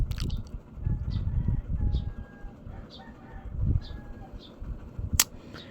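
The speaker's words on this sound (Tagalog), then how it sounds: "mayroong ibon, oh, naguhuni sa bubong guys" A bird, pigeon-like, coos softly a few times on a roof, faint low calls among quiet rustling and small nearby knocks.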